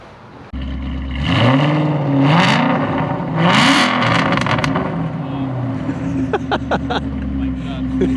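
An Aston Martin V8 Vantage with a Velocity AP X-pipe exhaust, cats and a stage 2 tune starts up and revs, deep engine note rising and falling several times close by, with people talking over it.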